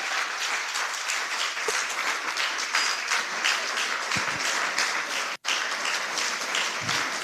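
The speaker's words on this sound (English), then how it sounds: "I will give a round of applause." Sustained audience applause at a Lagos pharmacy association youth week event, a dense, steady wash of many hands clapping throughout, with one brief dropout near the end.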